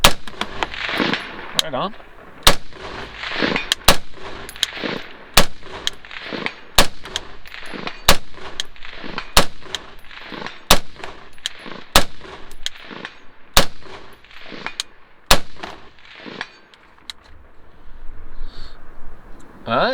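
A Bushmaster ACR DMR rifle with a two-stage trigger fires M193 5.56 ball at a range, about a dozen loud, sharp reports at a steady pace, with a brief spoken remark between shots.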